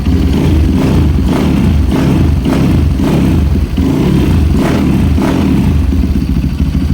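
A Honda CRF150 supermoto engine with a loud aftermarket Doctus Pro-Up exhaust revs repeatedly, close and throaty, the pitch surging and falling in several blips.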